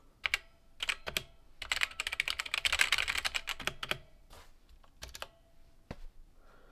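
Clattering keystrokes on a brightly colored computer keyboard, typed in quick bursts with short pauses, close and fairly quiet, with no one talking.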